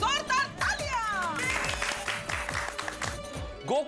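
A group applauds in a lively home-gathering scene from the Hindi sitcom Taarak Mehta Ka Ooltah Chashmah, brisk clapping under overlapping children's and adults' voices for a few seconds.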